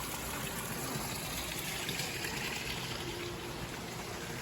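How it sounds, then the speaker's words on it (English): Small water feature at a nature center trickling and splashing steadily, a close, soft, continuous babble with no voices. "Little water feature."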